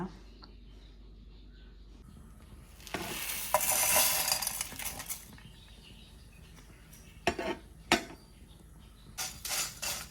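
Peppercorns, cumin seeds and fenugreek dry-roasting in a pan, with a spoon stirring and scraping in bursts, a louder rattling stretch early on, then softer intermittent stirring with brief sharp scrapes.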